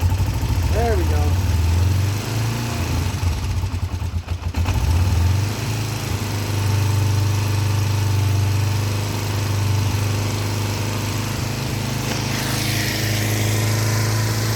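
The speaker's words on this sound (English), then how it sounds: "Bike always starts so good." Kawasaki Ninja EX500 motorcycle engine idling steadily with a low, throbbing hum close by, a brief dip midway, and a person speaking over it.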